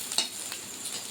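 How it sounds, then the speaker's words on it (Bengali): Pointed gourd peels frying in a pan give a brief close sizzle with a quick scrape of a stirring utensil. "দেখছেন তো এই যে পাক খেয়ে যাচ্ছে কত সুন্দর হয়ে। এইভাবে ভাজা হয়"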